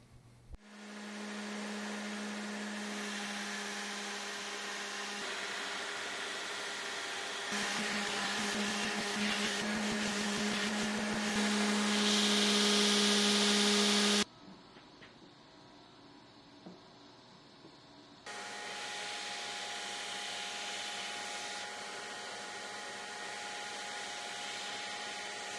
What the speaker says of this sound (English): Now it's back to the grinder to clean them up.